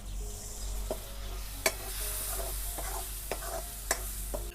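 Spices frying in oil for chana: turmeric, coriander-cumin powder and red chili, with lemon juice and a little sugar added, crackling softly under a steady hum, with a few sharp clicks of a spoon against the pan.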